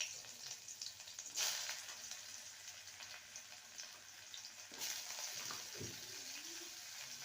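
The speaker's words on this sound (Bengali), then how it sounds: "এবার চলে যাব উচ্ছে আর রাঙা আলুকে ভেজে নেব।" Bitter gourd and sweet potato fry in hot oil with a faint, continuous hiss and soft crackle. A couple of brief louder splashy bursts rise above it, and no one speaks.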